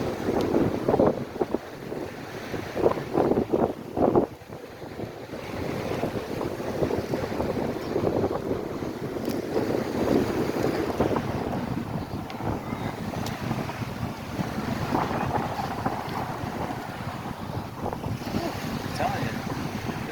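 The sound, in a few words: strong wind on Fort Myers Beach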